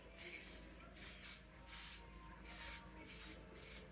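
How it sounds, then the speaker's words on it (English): Several bursts of non-stick cooking spray hissing from an aerosol can, each about half a second, coming in a steady rhythm up close with brief pauses between them. "I'm going to just spray it with this Meyer spray, non-stick cooking spray"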